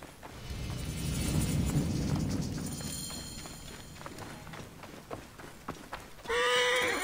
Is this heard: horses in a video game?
yes